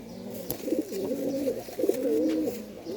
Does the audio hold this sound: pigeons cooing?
yes